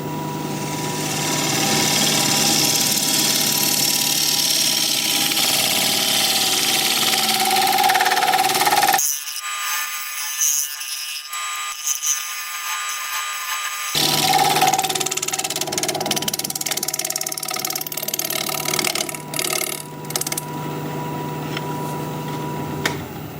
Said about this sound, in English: Let me put a fresh edge on my scraper and we'll scrape.